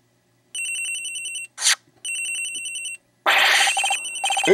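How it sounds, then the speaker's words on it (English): A phone rings in the Ace Attorney Investigations game on Nintendo DS: two bursts of rapid electronic trilling, each about a second long, separated by short gaps and broken by loud game sound effects. "Agent Hicks' phone, it's ringing from somewhere"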